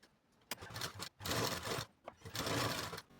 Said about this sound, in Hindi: डबल लाइन पे हम टॉप सिलाई लगा।